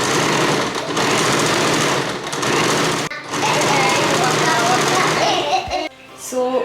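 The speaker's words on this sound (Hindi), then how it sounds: "अभी यहाँ पे इसको स्टिचिंग कर देंगे" Sewing machine stitching the bodice of a puff-sleeve midi dress with ruffles, a dense mechanical rattle running almost continuously with a brief pause midway, loud and close, ending with a few softer handling sounds.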